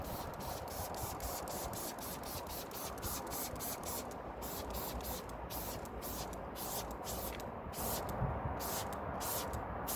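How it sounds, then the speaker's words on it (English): Rapid repeated bursts of a trigger spray bottle of wheel cleaner hiss onto wheels in a fast, even rhythm, close by, continuing for several seconds over a low background rumble. "spray it on liberally, leave it 5 minutes and let's see what happens."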